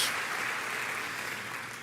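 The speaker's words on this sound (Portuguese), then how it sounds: "Pode dar uma salva de palmas, celebre em nome de Jesus." A church congregation breaks into applause during worship, a steady wash of clapping that holds moderately loud and slowly fades over less than two seconds.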